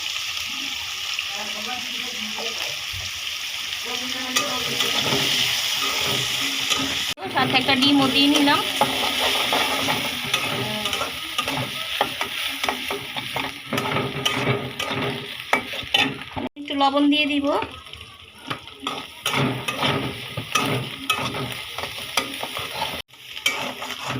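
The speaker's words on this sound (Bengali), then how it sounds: "মাংস পেঁয়াজ আর কাঁচামরিচ একটু ভেজে নিচ্ছি" Broiler chicken pieces with onion and green chilli fry in a pan for mixed chow mein. A steady sizzle runs under repeated scraping and clattering stirs, while someone talks over the cooking throughout.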